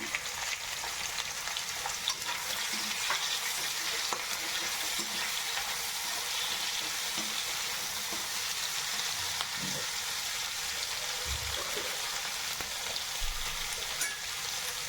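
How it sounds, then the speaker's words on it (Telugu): Onions sauté in a pan for shahi paneer, a steady soft crackling sizzle with occasional scrapes and small knocks of stirring, close but fairly quiet, with no voices. "తర్వాత ఉల్లిపాయలు మగ్గాలి ఎర్రగా"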